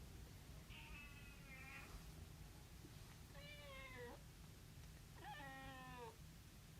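Pet cat Simba, a female, meows three times indoors near the microphone, each call drawn out and slightly rising, with short pauses between them over a steady low room hum.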